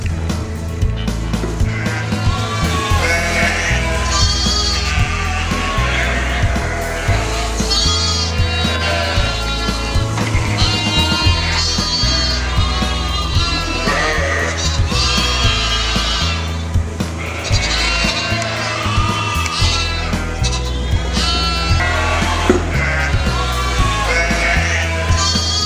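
Sheep and lambs bleating on a farm, many overlapping calls repeating loudly and continuously over a dense, busy background.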